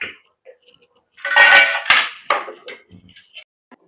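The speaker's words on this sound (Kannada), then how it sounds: "ಈಗ ತಟ್ಟೆ ಮುಚ್ಚಿಬಿಡೋಣ" A plate goes over a pot of chicken biryani with a short metallic clatter and scrape, followed by a few lighter clinks of metal on metal, close and brief.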